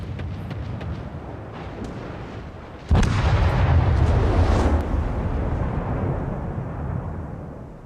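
Benson destroyer guns firing in the naval battle game World of Warships: a sudden heavy booming salvo followed by a sustained rumbling roar that slowly fades.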